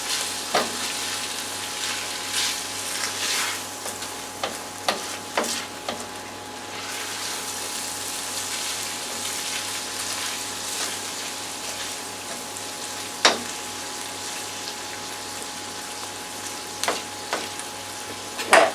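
Sirloin steak hash with potatoes and beef base sizzles steadily in a pot, a close, even frying hiss with occasional clinks and stirring scrapes, with no talking.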